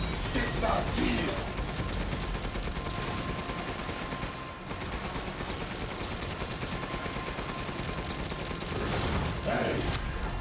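Rapid gunfire and fusillade bursts from the Resident Evil Village video game, a dense continuous barrage of shots layered over game effects and a speaking voice, with brief dips before the firing resumes.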